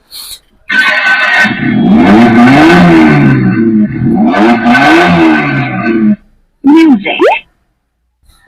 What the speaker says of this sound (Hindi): इसमें से साउंड कितनी प्यारी आती है, जैसे सच में ये गाड़ी स्टार्ट हुई हो